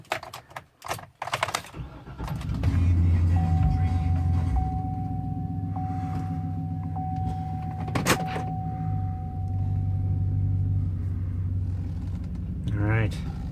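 Interior of a 2007-2012 Chevrolet Silverado pickup with a 6L80E transmission on a test drive after a fluid flush: steady low engine and road rumble with a faint whine, a few clicks and rustles early on, and no talk.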